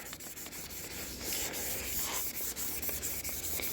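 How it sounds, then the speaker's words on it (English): Continuous hand sanding of a 12-year-old Chevy Equinox headlight lens with 220-grit sandpaper, a steady close scratchy rubbing that keeps up for several seconds with small shifts in stroke, no talking. "I'll sand some more by hand."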